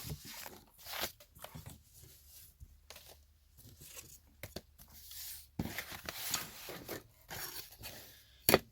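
A piece of cardboard cut to fit inside a hardcover book spine: irregular scratchy rasps and short tearing strokes, close and quiet, with brief pauses between strokes.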